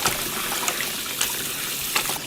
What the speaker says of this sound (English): Couple of times you just wash and pour out the water and then with new fresh water and then wash it again.